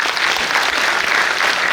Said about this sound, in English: claps for Navya